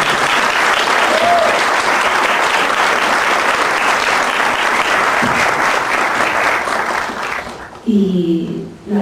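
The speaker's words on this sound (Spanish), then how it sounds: "les podríamos dar un aplauso" Dense, sustained applause fills a room as an audience claps at a film screening discussion, fading near the end as a voice starts speaking.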